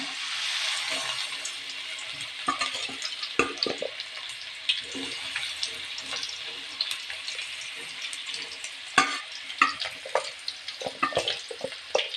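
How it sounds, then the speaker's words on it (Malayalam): Gobi manchurian cauliflower pieces fry in a small amount of hot sunflower oil, a steady close sizzle broken by crackles and scraping stirs, with a voice speaking over it. "ചൂടായ ഞാൻ ഇതിനകത്തിലോട്ട് ഇട്ട് വറുത്തെടുക്കാൻ പോവാണേ"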